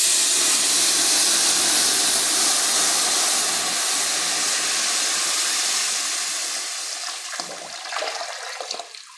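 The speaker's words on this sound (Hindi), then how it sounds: "अब बाजी डालने लगी हैं जी इसमें पानी" About eight kilograms of water poured into a large hot cooking pot over an outdoor village fire sends up a loud, continuous roaring hiss of steam that slowly tapers off, with faint clatter near the end.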